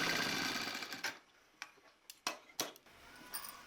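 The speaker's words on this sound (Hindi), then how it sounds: "इसी तरह हम दूसरी साइड भी सिलाई करें।" A sewing machine stitches a frill frock, a fast rattling run that fades, then a few sharp clicks and taps as the fabric is adjusted, close and fairly quiet.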